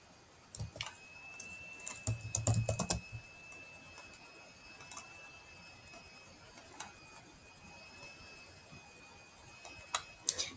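Sparse key taps on a computer keyboard, clustered at first and then isolated clicks, are heard faintly over a quiet room hum with a thin steady tone.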